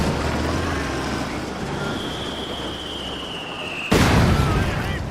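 In the Company of Heroes 2 multiplayer strategy game, a steady rumbling battlefield din with a whistling incoming shell gives way to a sudden loud artillery explosion near the end, followed by a heavy lingering roar.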